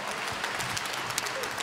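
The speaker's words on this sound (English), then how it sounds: "You're not supposed to applaud in synagogue." A congregation claps during a Yom Kippur morning service in a synagogue, a brief, moderately quiet patter of applause from many hands filling the room.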